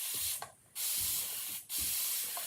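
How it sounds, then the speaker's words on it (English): Spray bottle misting water onto a chalk-painted Halloween porch sign, long loud hissing sprays broken by brief pauses, close by with no talking. "let's spray it with water"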